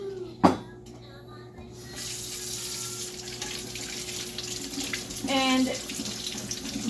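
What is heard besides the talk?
tap water running while washing berries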